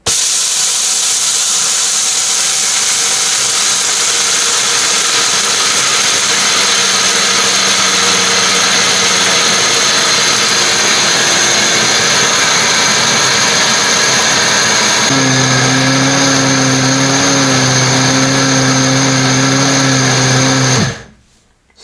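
A Biolomix 2200 W professional blender grinds corn with a loud, continuous motor whine that rises in pitch partway through, runs steadily, then cuts off abruptly near the end.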